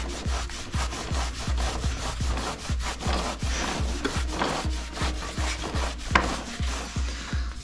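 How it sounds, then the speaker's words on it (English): A rag wiping sanded residue off motorcycle brake parts on a KTM 390 Adventure during a brake pad change, close and steady: rhythmic rubbing strokes at about two per second with dull thumps, no talking. "And then you're just gonna wipe it down."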